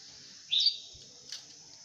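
A trapped Japanese white-eye gives a sharp, high chirp, followed by a fainter second note a moment later, both close and clear against a quiet background.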